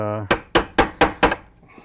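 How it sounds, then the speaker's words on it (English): A chisel is struck five times in a quick, even series of sharp, loud knocks, gouging a slot in wood for the nut of a cigar box guitar, after a brief voice at the start. "the next step is to do a little bit of chiseling to kind of gouge out the bridge"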